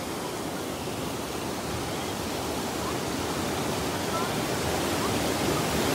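Datanla waterfall in Da Lat pouring over rocks, a steady, close, broadband roar of rushing water that stays even and unbroken throughout, with no voices heard.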